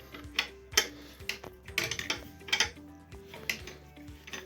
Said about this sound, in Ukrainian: Тут беремо рожкового ключа на 17, відкручуємо подачу масла.